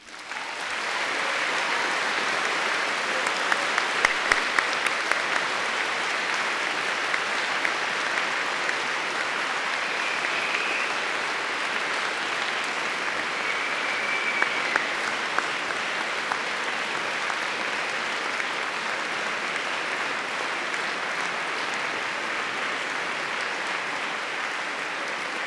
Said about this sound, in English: giving them all an enthusiastic round of applause